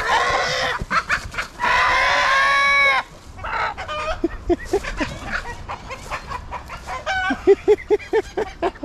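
Farmyard chickens cluck in a series of short, sharp calls, with a longer rooster-like crow near the start, fairly close and without speech.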